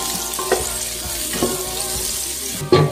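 Chopped onion hits a hot frying pan of oil during goto lugaw prep, giving a steady close sizzle with a few louder bursts and stirring clatter, the last burst strongest.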